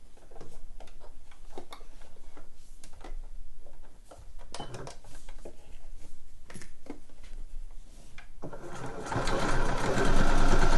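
A sewing machine runs in short bursts of rapid stitching, joining a slipper upper's rib and fused cotton with a fleecy lining at a centimetre seam allowance, close and clear, speeding into a louder continuous run at the end.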